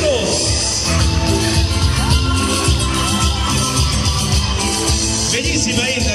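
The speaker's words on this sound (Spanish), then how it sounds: "La vamos a despedir con el aplauso." A large crowd at a beauty pageant cheers and shouts continuously, a dense wall of voices and whoops filling the space without letup.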